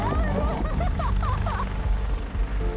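A helicopter in flight over Swiss alpine terrain, a loud continuous rotor and engine roar filling the whole stretch, with faint chirping voices or sounds riding briefly on top.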